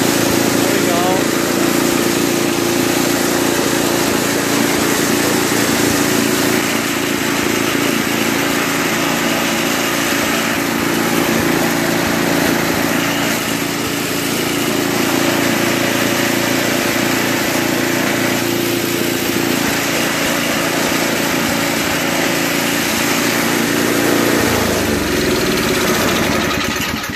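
A Toro 21-inch two-stage snow blower with a 5 HP Tecumseh engine runs steadily at idle the whole time, a constant close engine drone, with someone talking over it.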